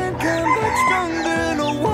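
A rooster crows nearby on a Filipino farm, a loud, close, drawn-out cock-a-doodle-doo with rising and falling notes, accompanied by other fowl calling around it.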